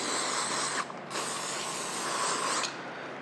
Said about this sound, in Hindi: फिर स्प्रे मारें, हेयर स्प्रे